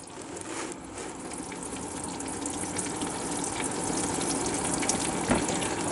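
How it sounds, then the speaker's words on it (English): Transmission fluid pours steadily from a car into a drain pan in a garage, making a continuous close gushing, splattering wash of liquid that holds for several seconds with no talking. "There we go, it's pouring."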